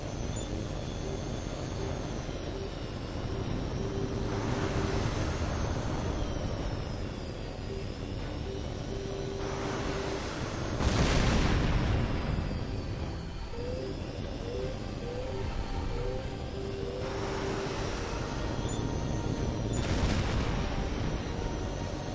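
Jet engines roaring during a video game dogfight in Hawx 2 with incoming missile fire, a constant loud rumble swelling as aircraft pass, with sharp whooshing bursts and thumping explosions scattered throughout.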